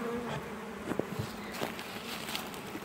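Italian honey bees buzz softly and steadily while being hived, a faint swarming drone with occasional louder passes close by.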